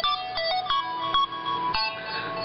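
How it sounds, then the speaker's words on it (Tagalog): Electronic melodic ringtone from a Cherry Mobile Flare smartphone, a bright beeping tune of repeated short tonal notes in a steady rhythm, loud and close, with no voices over it. "Yan po ang iskandalosong ringtone ng Cherry Mobile."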